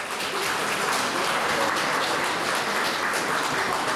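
Loud, sustained audience applause at a county choir festival, a dense wash of clapping that runs evenly through the whole stretch with no speech.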